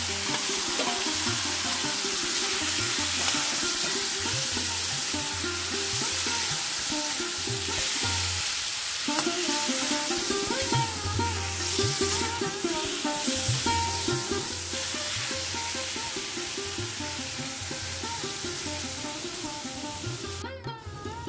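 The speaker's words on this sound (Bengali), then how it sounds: "এখন আমি কিন্তু এই চিংড়ি মাছগুলো দিয়ে একটুখানি ভেজে নেব" Salted, turmeric-coated prawns fry in hot oil, a dense continuous sizzle and spatter close up that runs steadily throughout with no talk, fading slightly at the end.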